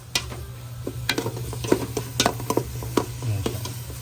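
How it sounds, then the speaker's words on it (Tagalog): Miso sautéing in oil in a pan while making sinigang sa miso, giving a steady close sizzle with repeated sharp stirring scrapes and taps from a utensil, no talk. "Ginisa muna natin yung miso."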